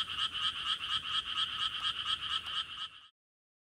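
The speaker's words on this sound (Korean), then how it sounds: "시끄러운 청개구리의 울음소리만이" A chorus of tree frogs at a nighttime valley reservoir croaks in quick repeated pulses, loud and continuous before cutting off abruptly into silence near the end.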